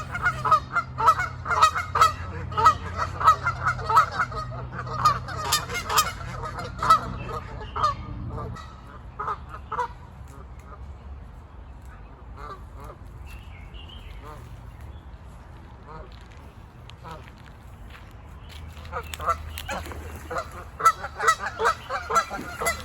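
Geese honk repeatedly and noisily at first, fade to a quieter stretch, then resume a burst of honking near the end, at the Los Angeles County Arboretum and Botanic Garden.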